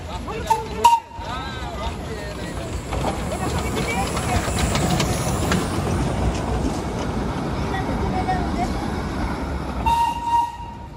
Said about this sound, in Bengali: দার্জিলিংয়ে যেটা সব থেকে ফেমাস টয় ট্রেন, সেটা এখন আসছে।